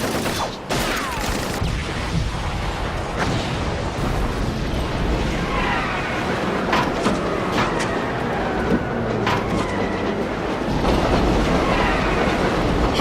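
A train running on rails, a dense continuous rumble broken by sharp bursts and pops throughout, loud and close with no talking.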